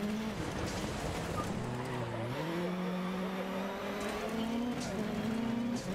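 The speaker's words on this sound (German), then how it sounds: "driften kann man diese RX Supercars übrigens auch richtig, richtig schön" An RX Supercar in the Dirt Rally 2.0 video game, engine droning and shifting pitch as the car drifts, with faint tire noise throughout, steady and moderately distant.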